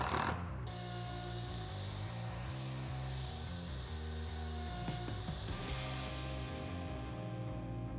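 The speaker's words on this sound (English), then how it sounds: "and then we're gonna get routing" A router rides on a rail jig to flatten a live-edge wood slab, making a loud, unbroken high-pitched whine with a grinding cutting hiss that holds steady throughout.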